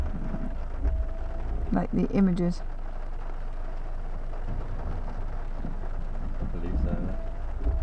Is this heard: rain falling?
yes